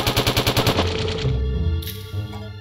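A rumbling cave-in in the video game Ocean's Heart: a fast series of heavy, juddering thumps gives way to a deep, sustained rumble that slowly fades. It is loud and close, with no talking.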